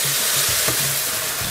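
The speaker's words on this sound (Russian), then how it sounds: "Чуть-чуть обжарим вместе с мукой." Mushrooms and chicken with flour sizzle steadily in a hot pan, a loud continuous frying hiss with occasional stirring scrapes, close up and with no talk.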